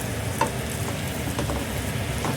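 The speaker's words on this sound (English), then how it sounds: "Now, keep cooking the eggs." Eggs fry in a pan with a steady, close crackling sizzle, a few brief clicks of a utensil poking through, and no one speaking.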